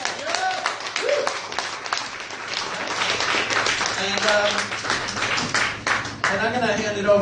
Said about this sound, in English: Big round of applause for Charles.